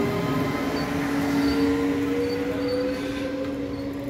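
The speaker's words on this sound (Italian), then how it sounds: "Eccolo qui il treno." A train pulls away on a single track at Caldè station on Lago Maggiore, with a steady rumble and a sustained tonal wheel or brake whine held at moderate distance, fading slightly toward the end.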